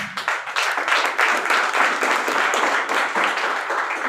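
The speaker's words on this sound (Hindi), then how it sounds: "इसके लिए मैं जोरदार तालियां चाहूंगा।" Loud, dense audience applause at an indoor product presentation, many hands clapping steadily and close for about four seconds with no voices over it.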